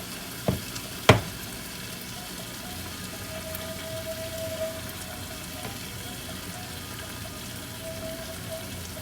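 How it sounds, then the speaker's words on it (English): Vegetable biryani ingredients being mixed with yogurt in a pot, a low steady wet hiss throughout with two sharp clicks of a spoon near the start and no talking. "I'm actually mixing the ingredients with the yogurt"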